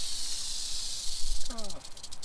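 Male rattlesnake giving a loud, continuous dry buzzing rattle and hiss at close range, with someone speaking briefly near the end.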